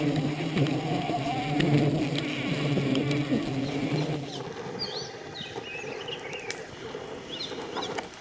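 Wild honey bees buzz in a dense, continuous swarm drone during honey collection with fire and smoke in Madhya Pradesh, India, loud at first, then thinner with a few individual insects passing close.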